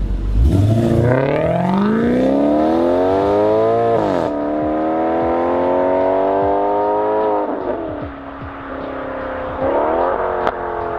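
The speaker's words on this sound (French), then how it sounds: "Là où Maserati va énormément se démarquer, c'est d'ailleurs sur la sonorité de ce V8." A Maserati GranTurismo's Ferrari-built V8 revving hard, its pitch climbing through repeated rising sweeps, loud and close, with brief drops between pulls.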